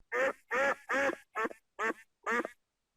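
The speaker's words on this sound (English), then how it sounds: "Ducks." Six loud, evenly spaced duck quacks with short gaps between them, close and clear, with no other sounds.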